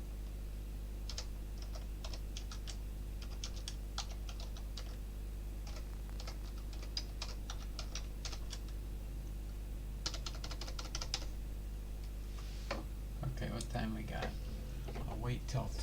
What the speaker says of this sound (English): Let me get this typed in here for the 2-minute